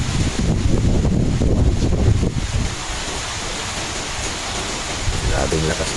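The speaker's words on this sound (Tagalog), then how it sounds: "hangin guys. Parang mabubuwal ang mga niyog." Strong typhoon wind and heavy rain lashing a yard with coconut palms, a loud continuous roaring rush that surges and eases, close to the microphone with buffeting wind noise.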